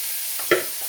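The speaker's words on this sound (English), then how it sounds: "when the onions hit the hot oil it will sizzle" A sudden hiss and sizzle as onions drop into hot oil, a brief burst rising over quiet background noise, then settling into a softer crackle.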